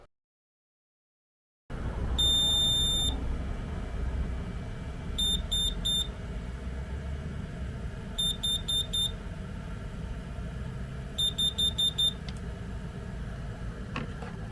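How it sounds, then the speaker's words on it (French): Groups of short, high electronic beeps come from a power frunk controller on a Tesla Model Y or Model 3 during setup, sounding in four bursts of several quick bleeps each over a steady background hum. "on maintient appuyé l'unique bouton du contrôleur et on attend les bips"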